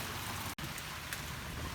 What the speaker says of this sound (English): And it's really coming down pretty good right now.